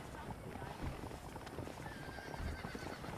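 Horses clip-clop along with an occasional whinny in the Red Dead Redemption video game, a steady mid-level trot under faint game voices and ambient noise.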